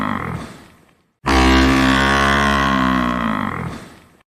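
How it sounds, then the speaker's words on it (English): A buffalo calls with one loud, long, deep moo that lasts about three seconds, close and alone, with a faint lower call just before it. "That's right! It's a buffalo!"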